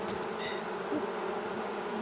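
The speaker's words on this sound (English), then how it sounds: "but the bees are pretty good about getting them out." Honey bees buzzing steadily around an open hive, a continuous close insect drone with a few individual bees passing nearer, faint and alone with no talk.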